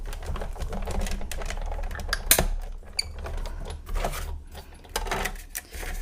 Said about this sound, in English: So now I'm going to go ahead and just cut this.